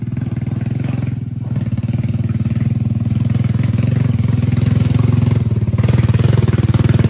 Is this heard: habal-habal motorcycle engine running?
yes